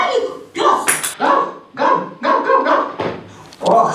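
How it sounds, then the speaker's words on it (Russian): A cartoon dog barks by the door of an apartment building entrance, about half a dozen sharp, loud barks in a quick, even rhythm, close and clear. "Вдруг залаял возле двери у подъезда шарик пес."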